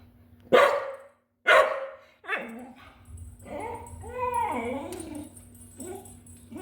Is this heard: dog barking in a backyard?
yes